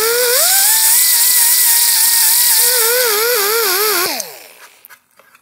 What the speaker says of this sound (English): come in with the die grinder and clean it up